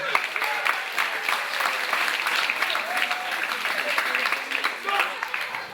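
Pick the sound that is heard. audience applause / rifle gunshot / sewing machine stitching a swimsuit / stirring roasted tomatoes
audience applause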